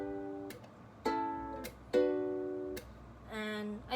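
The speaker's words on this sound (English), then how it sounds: "And with the chords it should sound like this." A quiet ukulele strumming pattern mixes plucked chords with percussive slaps. The chords change from one strum to the next and ring briefly between muted hits, close up with no talking.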